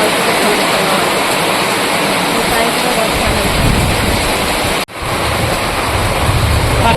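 Very heavy, intense rain pours down in a dense, steady roar that stays loud throughout, with a brief dropout near the end.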